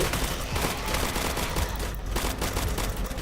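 Dense gunfire in a Roblox zombie survival game, a continuous rattling barrage of overlapping shots that keeps up a loud, busy texture throughout, with no voices over it.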